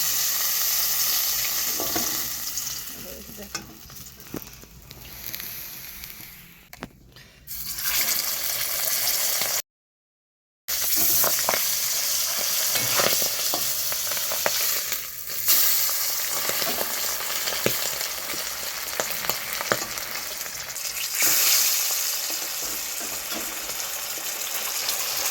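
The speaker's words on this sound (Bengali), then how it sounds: "আর মাছ ভাজতে গেলে ফোটে" Fish frying in hot oil in a wok sizzles and spatters continuously, crackling bursts rising and falling with occasional louder pops and a short silent gap partway through, close and without talk.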